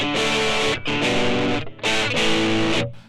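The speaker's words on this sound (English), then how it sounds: "more gain is going to give us a more overdriven, a more distorted sound." Electric guitar through a Blackstar ID Core V3 amp at high gain, heavily overdriven and compressed chords struck three times, thick and fuzzy, loud and close with no talking.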